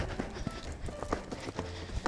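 Quick, uneven hoofbeats of a horse galloping at speed on soft ground, close by and fairly faint, with no one talking.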